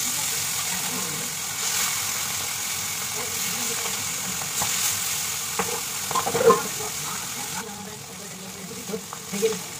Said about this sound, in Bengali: হালকা করে এইভাবে বাকি মাছগুলোকে আবারও ভেজে নেবো।